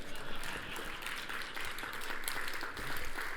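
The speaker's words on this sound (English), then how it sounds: "You can clap." Audience applause fills a tech talk hall on cloud analytics, a steady dense patter of many hands clapping that holds at an even level throughout without a break.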